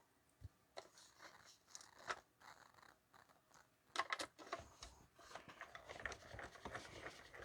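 Scissors cut through green cardstock for a folded paper card, making faint, close crunchy snips and rustles, sparse at first and then thickening into steady cutting near the end.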